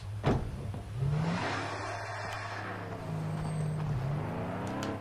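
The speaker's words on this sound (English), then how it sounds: "There's a car approaching." A car approaches in the open-world game Far Cry 3, its engine a steady droning hum whose pitch rises and swells, fairly loud and close, with no talk over it.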